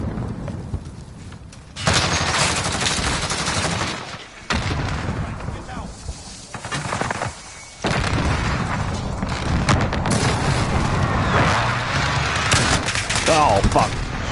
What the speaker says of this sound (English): I'm going to use the eyesight sniper rifle.